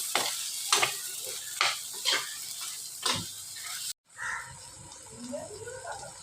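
A spoon stirs onions and pepper powder into pepper chicken frying in a pan, with sharp scraping strokes about once a second over a soft sizzle, then a quieter stretch of faint frying.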